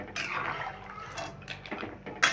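Pasta is stirred in a pot on the stove, with soft wet scraping and sloshing plus a light clink of the utensil against the pot, close and fairly quiet.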